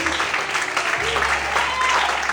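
A church congregation applauding during a worship service, broadband clapping held steady for a couple of seconds with a low hum underneath and some voice mixed in.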